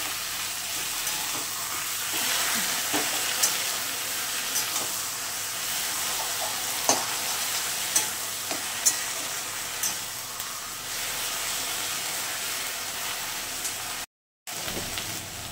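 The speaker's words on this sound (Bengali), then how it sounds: "এবার আমি পাট পাতাটাকে দিয়ে দেবো।" Jute leaves stir-fry in a hot pan during Bengali home cooking, a steady close sizzle and hiss with scattered small pops and occasional stirring scrapes, no talking.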